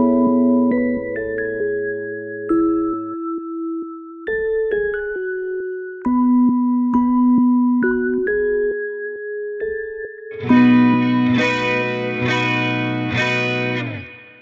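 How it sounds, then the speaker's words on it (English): An Omnisphere Rhodes LA Custom Warm electric piano run through AIR half-speed and phaser plugins plays sustained warm chords in a slow progression, then swells into a brighter, wobbling phased passage near the end, loud and with no voices. "So here's the actual keyboard sound if you guys want to use it, Omnisphere, the Rhodes LA Custom Warm."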